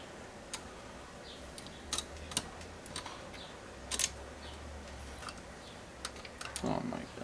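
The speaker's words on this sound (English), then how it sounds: "Let's get these screw out of here." Small screws are worked loose from a metal Hi-Capa airsoft pistol grip with a screwdriver, giving sparse faint clicks and ticks over a quiet room.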